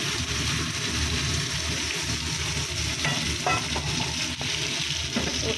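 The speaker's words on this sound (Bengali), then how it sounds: "আর এখানে কপিটাও ভাজা হোক আস্তে আস্তে, লাল লাল করা।" Cauliflower fries slowly in oil in a pan with a steady, close, continuous sizzle, broken by a few light stirring scrapes.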